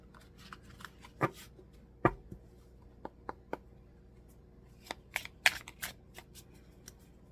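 Sparse, soft tarot card shuffling with scattered sharp flicks and taps, close by in a quiet room, no talking.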